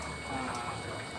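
An aquaponics pump pushes water up a downspout with a steady, close gurgling rush of flowing water and a faint mechanical hum underneath.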